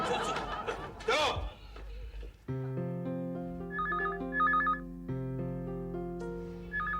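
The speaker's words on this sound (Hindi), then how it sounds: "इस वक्त किसका फोन हो सकता है?" A telephone rings indoors at home in a Hindi family comedy scene, a steady melodic electronic ringtone repeating for several seconds right after a burst of laughter and chatter.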